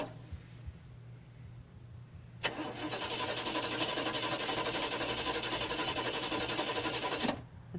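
A car engine cranks repeatedly without catching, a steady mechanical churning that starts abruptly, runs for about five seconds at moderate loudness, then cuts off, with a low hum underneath throughout.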